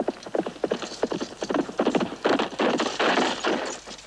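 Hooves of a horse carrying a rider clatter in a quick, steady clip-clop, loud and close, growing denser as the animal approaches, with no voices over them.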